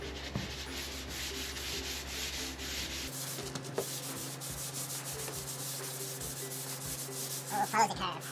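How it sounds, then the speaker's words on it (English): A folded sheet of 600-grit sandpaper is rubbed by hand over primer on a 1987 Jeep Wrangler body part, giving steady, close scratchy strokes against a faint background hum. "let's get sanding this guy. So I'm using 600 grit."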